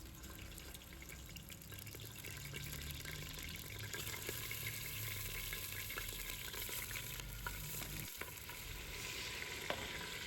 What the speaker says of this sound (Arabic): عندي زيت نباتي، بدي أقلي الدجاج أول شي